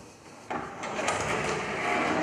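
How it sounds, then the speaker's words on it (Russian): A sliding door is pushed open, giving a sudden rolling, rumbling slide that starts abruptly and continues as a loud steady scraping rush for about two seconds. "Ненавижу сдвижные двери. Жутко неудобно и громко."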